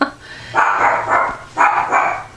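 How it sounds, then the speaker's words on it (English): A dog barks close by in two quick pairs, four loud sharp woofs in all, with short pauses between. "She's a good watchdog. Any little sound she's got to bark at."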